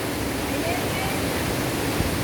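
Steady broadband rush of Alitap Falls, a waterfall with cold water, continuous and fairly loud, with no distinct breaks across the short stretch.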